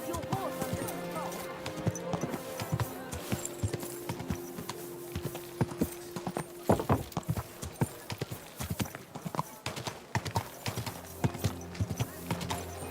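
Horse hooves clip-clop steadily in the medieval video game Kingdom Come Deliverance II, a close, rhythmic clatter with a brief whinny, partly under a voice and game music.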